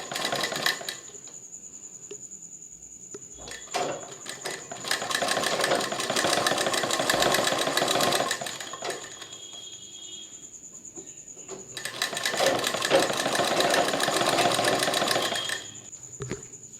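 A sewing machine stitches cord piping, running right beside the cord on a fabric strip. Two long, steady runs of rapid motor-driven stitching sit close and clear, separated by short pauses, with no talking.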